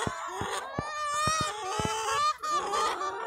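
Hens and young pullets on a poultry farm cluck and squawk in overlapping bursts, with sharp rhythmic clucks and drawn-out calls from several birds close by and no speech.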